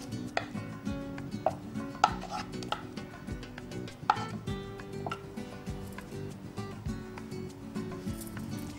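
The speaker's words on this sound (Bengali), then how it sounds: "গরম তেলে আমি চিকেনগুলো দিয়ে দিচ্ছি।" Chicken pieces frying in about two tablespoons of hot sunflower oil for chilli chicken, a steady quiet crackle broken by sharper pops and scraping clicks of a utensil, heard alone without talk.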